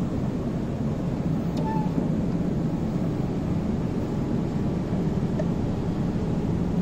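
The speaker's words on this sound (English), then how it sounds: "centrifugation." A laboratory centrifuge spins cytology sample tubes for a cytospin preparation at about 1000 RPM, giving a steady, loud, even broadband whir that holds constant throughout without pauses or speech.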